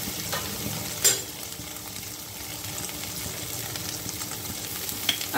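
Prawn curry masala with chili powder frying in a pan: a soft, continuous sizzle under intermittent stirring scrapes, with one sharper clack near the start.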